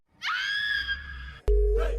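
A woman's scream from a horror film, loud and sustained with a quavering pitch, cut off abruptly by a heavy low boom and a brief burst of noise.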